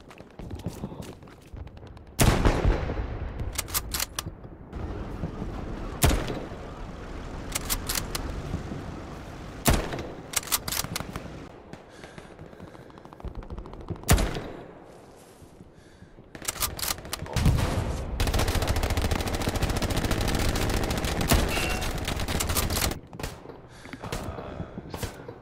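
Gunfire in the video game Hell Let Loose, with repeated sharp shots and bursts of automatic fire loud and close, broken by quieter stretches and some longer sustained rattling volleys.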